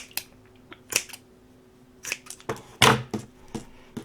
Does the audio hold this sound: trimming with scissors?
yes